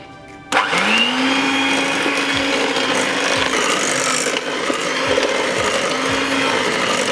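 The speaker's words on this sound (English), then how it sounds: "This time we'll be whisking at medium speed." An electric mixer whisks cream cheese frosting at medium speed, starting abruptly and then running as a loud, steady whir with a rhythmic scraping of the beaters against the bowl, no voices.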